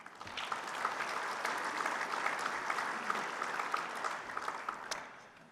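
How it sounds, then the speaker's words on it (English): Audience applause for Ethanol Producer Award winners at a fuel ethanol workshop general session, a dense, sustained clapping from a large crowd that holds steady throughout and fades slightly at the end. "Let's give all of our Ethanol Producer Award winners a round of applause"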